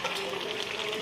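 Meat sizzling in a pan over low heat with tomato sauce for biryani, a steady close frying hiss with faint stirring, no talk.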